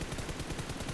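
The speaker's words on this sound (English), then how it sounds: "now they heard the gunshot from afar as well" Rapid gunfire in the PUBG Mobile battle royale game crackles in a quick, even burst of shots, faint and distant, with no voices over it.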